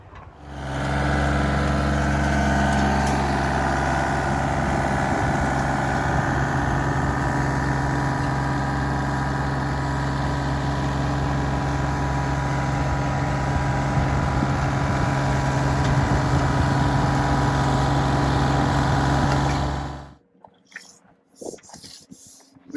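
A tractor drives a Rotadairon rotary soil cultivator on an adjustment pass, a steady loud engine drone with a low harmonic hum lasting about twenty seconds before cutting off abruptly, leaving faint scattered noises.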